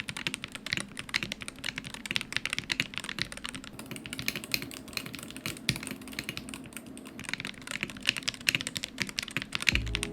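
Steady, fast typing on a $99 pre-assembled budget Hall effect gaming keyboard in its stock configuration, a dense run of close, crisp keystrokes with no talking.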